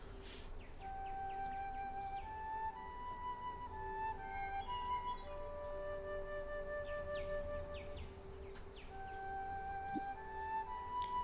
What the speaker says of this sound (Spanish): No estoy cantando, estoy tocando la flauta.